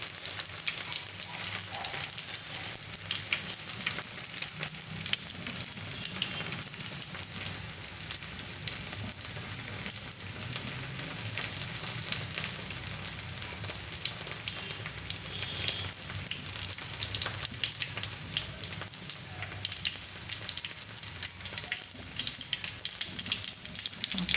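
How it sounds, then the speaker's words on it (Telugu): Onions fry in oil with mustard seeds and dried red chilies, giving a continuous close, crackling sizzle that stays even for the whole stretch with no voices. "ఆవాలు బాగా చుట్టుపట్లాడిన తర్వాత ఆనియన్స్ యాడ్ చేసుకుందాము"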